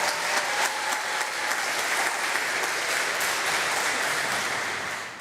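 An audience at a church alumni event breaks into sustained applause, a thick, loud roar of many hands clapping that stays even for several seconds before easing slightly at the end.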